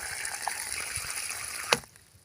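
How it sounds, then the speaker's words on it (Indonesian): Water is poured into a planting hole dug for curly red chili seedlings, a steady trickling wash that runs for about two seconds and ends with a brief splash before fading. "Ketika hendak ditanam sahabat tani akan saya siram sampai kenyang lubang tanam ini."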